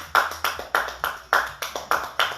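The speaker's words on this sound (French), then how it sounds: "10 secondes d'applaudissements, c'est parti." Clapping at the end of a home running workout session, heard as about eight sharp, evenly spaced claps in a steady rhythm, close and clear with no talk.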